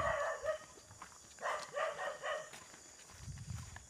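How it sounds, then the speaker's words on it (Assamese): Dogs bark along a rural cattle track lined with fencing, a few harsh bursts in short clusters at moderate distance, separated by quieter outdoor background. "কুকুৰ ভুকি আছে কুকুৰ"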